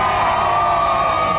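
A large outdoor crowd at the Durham Christmas lights switch-on cheers and shouts together, a loud, sustained roar of many voices filling the whole moment.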